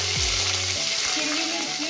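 Mustard seeds, cumin and curry leaves sizzle loudly in hot oil for a varan phal tempering, a steady close frying hiss with a few bursts of spluttering and no voice.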